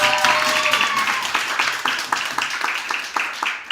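Banquet audience at an athletics awards night clapping for an honoree: a burst of room applause of many hands, fairly close, tapering off toward the end.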